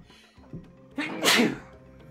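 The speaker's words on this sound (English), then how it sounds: "Everyone gets to enjoy the sneeze." A single loud human sneeze with a short breathy intake before it, close to the microphone, with no one talking.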